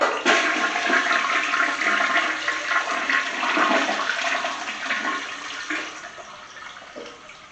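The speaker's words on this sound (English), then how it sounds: "I like the flush sound." A toilet flushes in a home bathroom: a loud, close rush of water starting abruptly, churning steadily for several seconds, then tapering as the bowl drains, with no voices.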